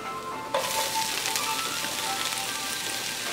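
Onions dropped into a hot pan for braised smoked pork hock burst into a loud, close sizzle that starts abruptly and holds as a steady crackling hiss, no talk.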